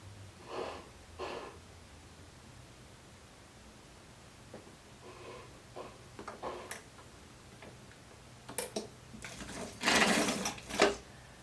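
A sewing machine stitching a blouse runs in short intermittent bursts of rapid whirring, faint at first and then louder and longer near the end, with quiet pauses between runs and no talking.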